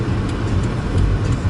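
The 2017 Subaru WRX's turbocharged engine gives a steady, close, broadband rumble from inside the car, with no one speaking.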